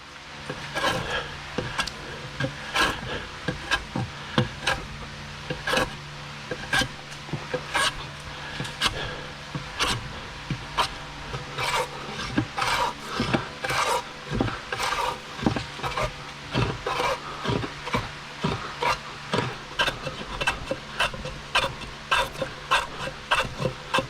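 Steady, rhythmic rasping of a DA sander working over a fiberglass bike fender, close and continuous with short repeated strokes, no voices.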